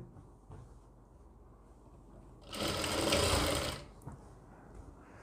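A sewing machine stitches the side seam of a gown in one quick burst of rapid, whirring clatter, rising out of a quiet room and stopping after about a second and a half.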